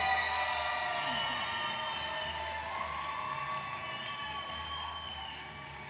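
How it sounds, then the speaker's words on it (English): An awards-ceremony audience in a large hall breaks into applause and cheering, a steady wash of clapping with a few whoops that slowly fades over several seconds. "And a round of applause for Kelly Paduano."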